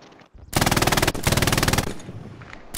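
Rapid automatic gunfire from the World War II shooter game Hell Let Loose, two loud sustained bursts of evenly spaced shots, a brief gap between them, then a trailing echo as the firing fades out.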